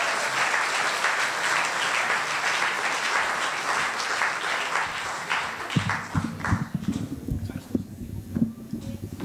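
Audience applause at a Webmontag Frankfurt meetup as three speakers come onto the stage, dense clapping filling the room and thinning out toward the end, when a few voices and stage sounds take over.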